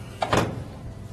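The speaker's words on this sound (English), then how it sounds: "we can close that door" A front-loading washing machine door swings shut during a repair, making one short, dull thunk with a faint click, fairly close and alone.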